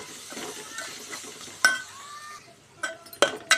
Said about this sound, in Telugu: కారం వేసుకొని కలుపుకుందాం